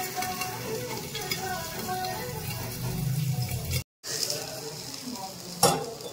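Tengra fish frying in oil, a steady close sizzle and bubbling with occasional utensil clinks, broken by a brief silent gap.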